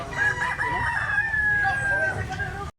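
A black hennie stag rooster with yellow legs lets out a single long, loud crow close by, ending abruptly.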